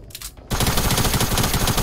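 Rapid gunfire in a video game starts abruptly after a short quiet lead-in, a dense, loud burst of repeated shots that continues to the end.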